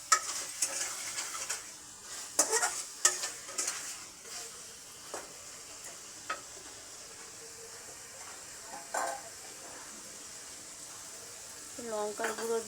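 Chicken with garam masala stir-fried in a pan for chicken kosha, with a faint sizzle under intermittent scraping spatula strokes that come in uneven bursts, some louder clanks near the end.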